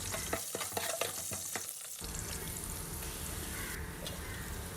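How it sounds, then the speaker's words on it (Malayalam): Onion, tomato, ginger-garlic paste and spices sautéing in oil for fish mandhi, with scraping stirs for the first two seconds, then a steady, close sizzle alone. "സവാള, തക്കാളി, ഇഞ്ചി വെളുത്തുള്ളി പേസ്റ്റ്, മല്ലിയില, പിന്നെ കുരുമുളക്, ബേ ലീഫ്, ഡ്രൈ ലെമൺ ഒക്കെ ഇട്ട് കൊടുക്കാം."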